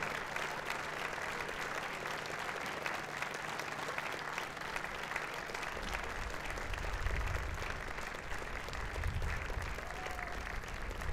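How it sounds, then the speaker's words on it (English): Sustained applause mixed with cheering from an audience at a cruise ship christening ceremony, greeting a choir after its performance; dense, steady clapping carries through the whole stretch with a low rumble beneath. "Give them a big cheer, everybody."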